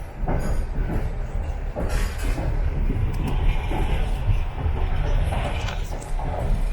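A moving passenger train on the Yakutsk to Ulan-Ude route gives a steady loud rumble with clickety-clack of wagon wheels, heard from inside the carriage with no talking.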